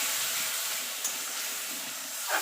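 Ground masala paste hits a hot pan with a loud, even hiss of steam and sizzle, steady and close for the whole stretch.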